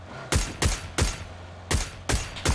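Six loud, close gunshots from the video game PUBG, fired in an uneven rhythm of single cracks with short gaps, each with a booming low tail and no talk.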